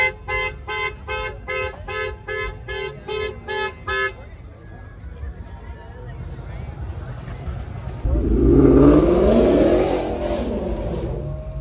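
Car engine revving at a nighttime car meet, a BMW F30 fitted with a 5.0; an opening stretch of evenly repeated toots or blips gives way to a loud rising rev that swells near the end, with people talking around it.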